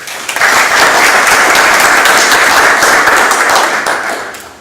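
A conference audience gives sustained, loud applause at a round-table homage to a poet, dense steady clapping rising quickly and fading out near the end.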